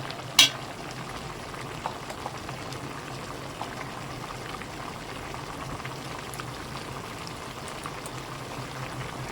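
A pot of coconut milk with breadfruit bubbles at a steady simmer, a continuous soft gurgling hiss with one faint clink near the start.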